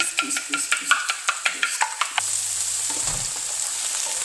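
Salt is whisked in a bowl with about a dozen quick, even strokes close up. After a couple of seconds they give way to a steady frying sizzle.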